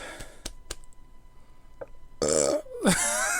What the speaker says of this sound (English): Oh, am I going to burp?